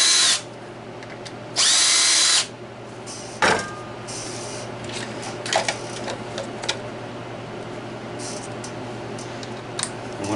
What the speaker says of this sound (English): Make these holes just a tad bigger.